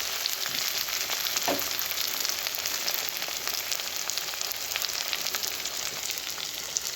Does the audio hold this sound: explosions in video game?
no